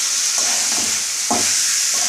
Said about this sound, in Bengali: এবার আমি ভাজা চিংড়ি মাছের মধ্যে দিয়ে নেড়ে নিই, তারপরে ফুলকপিটা দেবো